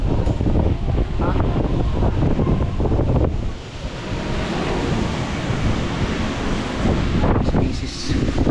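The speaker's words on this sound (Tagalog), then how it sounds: "Ang lakas, ang lakas ng hangin." Strong wind buffets the microphone over loud crashing surf in front of a seaside hotel, a constant roaring wash with a brief lull midway and voices talking faintly underneath.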